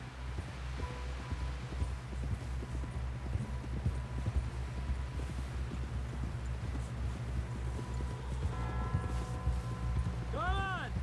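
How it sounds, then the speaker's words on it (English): Rhythmic hoofbeats of a galloping horse in Red Dead Redemption 2 run steadily throughout, joined by music near the end, with a voice speaking briefly under it. "Someone help John down off this horse."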